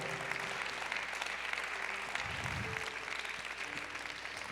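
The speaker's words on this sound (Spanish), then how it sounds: "Dale un aplauso a Dios." A church congregation claps together during a sermon, a steady, even roar of applause at moderate volume that holds throughout without letting up.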